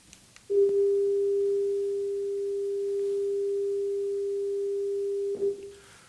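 Two pure electronic tones merged and played through an oscilloscope setup, a single steady loud hum that starts abruptly, holds unchanged for about five seconds, then cuts off with faint clicks.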